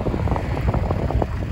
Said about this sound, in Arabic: المهم كاين الريح اليوم بزاف